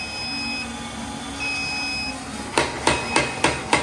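A coffee roaster's alarm beeps in steady high tones, then a run of five sharp, loud, evenly spaced clicks or knocks follows near the end, with no talking.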